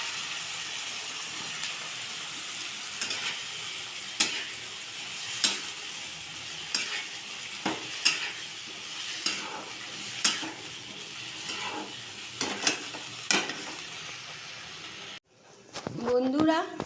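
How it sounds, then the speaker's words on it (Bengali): A paste of ground cumin, coriander and dried chilli fries in a pan for a fish-head and potato curry, hissing in a steady sizzle. A spoon scrapes and taps against the pan at regular intervals. "এবার আমি জিরে, ধনে, শুকনো লঙ্কা বাটার মিশ্রণটা এর মধ্যে ঢেলে কষিয়ে নেব"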